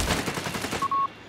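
Rapid bursts of automatic gunfire rattle through a Company of Heroes 3 battle on the Taranto coastline, loud and overlapping before cutting off, followed by a brief steady electronic tone.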